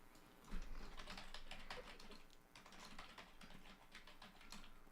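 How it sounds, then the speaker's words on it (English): Rapid, irregular clatter of keys being typed on a computer keyboard, close and fairly quiet, continuing steadily throughout with small bursts of faster keystrokes and no voices. "I was typing there"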